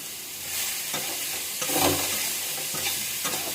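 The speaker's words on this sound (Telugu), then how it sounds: "అందులోనే కొంచెం ఫ్రై చేద్దాము" Food fries in a pan with a continuous bright hiss, broken by a few louder stirring swells and scrapes; nearby and with no voices.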